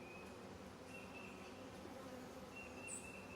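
Honey bees buzz around a newly set-up hive during a queen release, a steady, faint droning hum with a few individual bees passing closer, whining briefly, and no talk.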